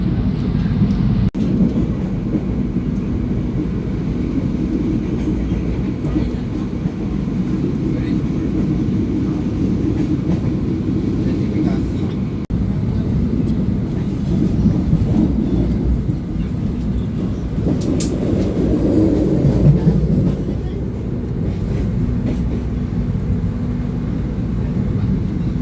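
Continuous low rumble and rattle inside an economy-class train travelling out of Solo Balapan station in Central Java, steady throughout with a slight swell near the end.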